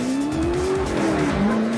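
A 2012 Chevrolet Camaro ZL1 with a 6.2-liter V8 produces a loud, steady engine roar whose pitch climbs slowly and then dips, heard up close with no voices.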